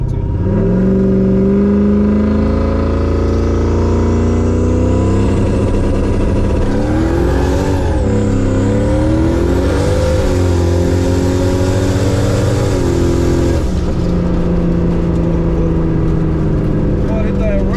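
The turbocharged Jon Jones Camaro revs loud and close on a test drive, its engine note rising and falling through gear changes over a constant roar.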